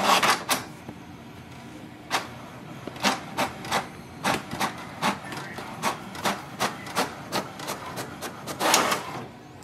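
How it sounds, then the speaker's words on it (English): An HP DeskJet 4100 inkjet printer runs through a page: rapid mechanical clicks and whirring passes of the print head, repeating in a steady rhythm, close by with no talk. "It will send a command for the printer to print a page."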